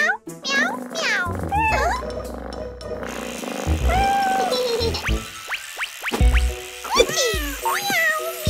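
A singing voice imitates a cat's meows in a children's cartoon song, several rising and falling mews over music, with other voices singing between them.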